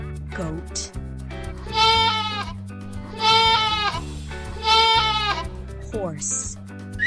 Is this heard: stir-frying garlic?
no